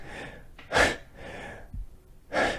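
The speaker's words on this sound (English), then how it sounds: "That's a lot of heavy breathing after that statement." Heavy breathing comes close to the microphone, several loud, rough breaths and exhalations in an uneven rhythm with quieter noisy gaps between them.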